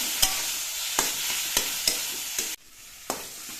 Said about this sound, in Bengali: এবার এই নুন হলুদ দিয়ে নেড়ে চেড়ে মিশিয়ে নিতে হবে